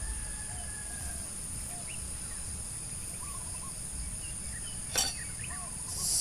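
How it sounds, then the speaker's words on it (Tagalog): Birds chirping outdoors at a night moto campsite with a view of Mayon Volcano, faint scattered chirps over a steady insect hum and low background noise, with one brief sharp sound near the end. "ng huni ng mga ibon"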